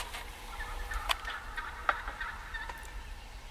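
Two wild turkey toms in a field during spring turkey season give faint, distant gobbling notes with a couple of sharper calls near the middle, over steady outdoor ambience.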